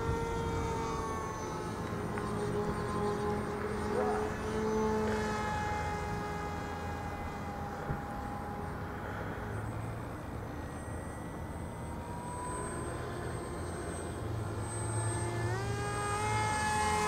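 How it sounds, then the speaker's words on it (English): A small x41 DeltaStorm RC model airplane engine whines overhead, its pitch sliding up and down as it passes at speed, fairly distant and steady in level. "Fast plane, look how fast that's going."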